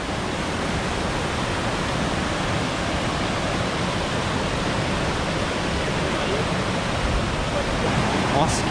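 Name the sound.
twin waterfalls on the Mãe Catira river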